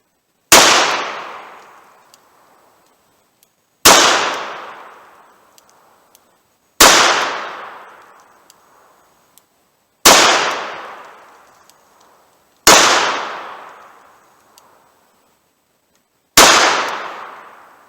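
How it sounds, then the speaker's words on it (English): A Smith & Wesson 686 revolver fires .38 Special 170-grain lead semi-wadcutters, six loud sharp shots spaced about three seconds apart, each with a decaying ring-off into quiet. "I'm going to keep firing some through these guns and see if I can kind of tighten up my groups a little bit"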